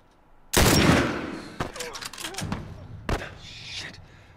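Gunshots in The Last of Us, one loud sharp blast followed by a few more scattered shots and thuds, with a voice speaking between them.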